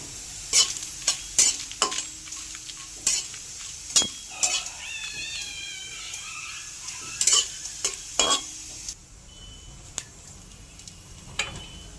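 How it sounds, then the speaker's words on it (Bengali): Dried chili and garlic dry-roasting in a dry wok for a Barishal-style dried shrimp bharta: scattered sharp clinks and scrapes of a spatula against the wok with faint crackling, fairly quiet overall. "শুকনো কড়াইতে শুকনো লঙ্কা আর রসুন একটু হালকা করে ভেজে নিতে হবে।"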